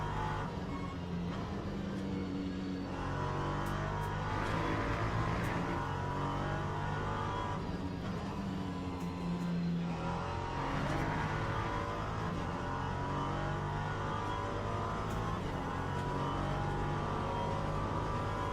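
A race car laps Monza in a racing video game, its engine droning steadily and continuously with rising and falling revs through gear changes and corners, loud and close throughout with no voices.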